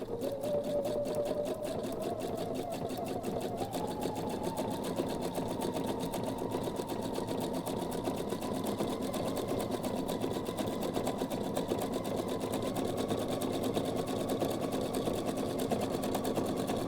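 A sewing machine runs a long, continuous zigzag stitch joining two butted fabric pieces, a close, rapid mechanical whirring with a fast even rhythm and a slight rise in pitch as it speeds up.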